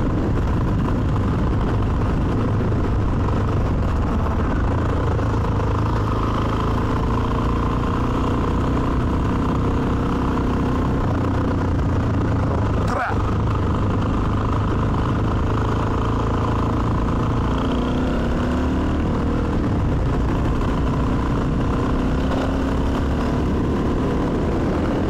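Suzuki DRZ 400 motorcycle with a freshly tuned carburetor, its single-cylinder engine running loud and steady nearby, holding a constant drone with brief shifts in pitch midway.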